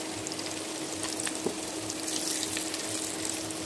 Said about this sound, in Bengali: পেঁয়াজগুলো মোটামুটি ভাজা হয়ে গেছে। এখন আমি মাছগুলোর সাথে মিশিয়ে দিচ্ছি।